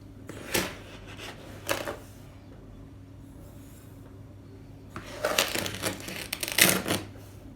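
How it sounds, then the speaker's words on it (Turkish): Granulated sugar tipped from a cup into a pot for dessert syrup, two short rattling, gritty pours near the start and a longer, denser burst of pouring later, close by, with quiet gaps between. "Şimdi 3 bardak şeker ekleyeceğim."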